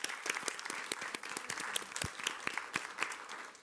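Audience at a school board meeting giving a round of applause, a sparse, uneven spatter of individual claps from a modest crowd, fairly quiet with distinct sharp hits.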